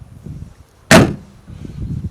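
The door of a left-hand-drive Land Rover Lightweight Series III is shut with one solid metallic thud, close by, amid quiet outdoor background noise.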